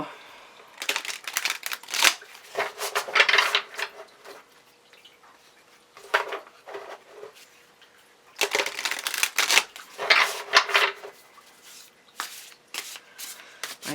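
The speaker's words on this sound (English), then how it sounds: "This deck is chunky and stiff and not easy for me to shuffle." A chunky, stiff oracle card deck being shuffled by hand in bursts of riffling and crinkly card slaps, with quiet pauses between, close and fairly loud.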